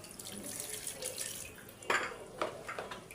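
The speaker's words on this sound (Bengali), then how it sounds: "একটু পানি দিয়ে দিই।" Water is poured into a pot of goat meat curry, giving a brief splashing gush that comes in uneven bursts over faint kitchen background noise.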